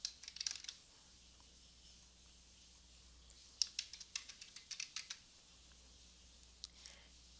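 Quiet, close keystrokes on a computer keyboard come in short irregular bursts of clicks, separated by pauses, while someone fills in author details in academic writing software.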